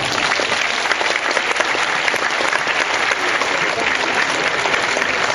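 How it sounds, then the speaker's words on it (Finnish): Audience applause filling an arena, dense and loud clapping sustained evenly from start to finish with no pauses and no audible voices. "antakaa reilujen aplodien tulla"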